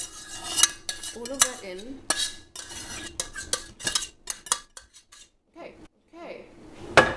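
Mince scraped and poured onto macaroni in a dish: close, irregular clinks and scrapes of a metal utensil against the pan, with brief quiet talk between them.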